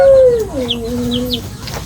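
A Rhode Island Red chicken gives a drawn-out, falling squawk followed by softer clucking calls, close and loud, with faint chirps in the background.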